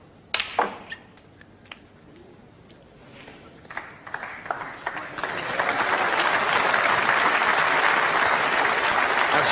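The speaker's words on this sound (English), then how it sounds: "That's got a bit of reaction from the crowd." Snooker crowd breaking into applause after a shot, building from a few scattered claps and taps into sustained, dense clapping that fills the second half at steady volume.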